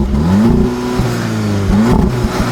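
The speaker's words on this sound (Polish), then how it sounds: "Dźwięk, dźwięk silnika jest taki, powiedziałbym, taki normalny po prostu" A 2016 Seat Ibiza Cupra 1.8L TSI engine revs up twice, its pitch rising and falling in loud sweeps, close by with no voices.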